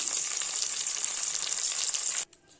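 Fish frying in hot oil in a Bengali kitchen, a dense steady sizzle that runs loud for over two seconds and then cuts out abruptly, leaving near silence.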